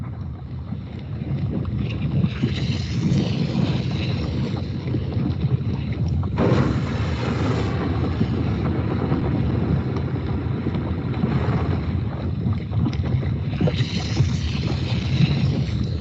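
A synthesized effect imitating a volcanic eruption in Iceland makes a steady, loud, roaring rumble with a windy, rushing texture. It holds constant throughout with slight swells.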